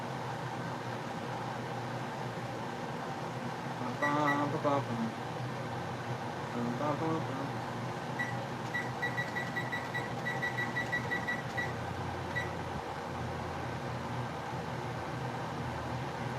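Kitchen timer being set, a few short clusters of high beeps as buttons are pressed, faint under a person talking and a steady room hum.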